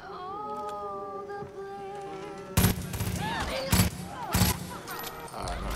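Gunfire in the Far Cry 5 video game comes as several sharp, loud bursts in the second half, following a stretch of tonal in-game sound, with a voice talking during the action.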